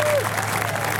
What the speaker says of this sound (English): Give them the most amazing Port Macquarie round of applause as they come up to collect their prize.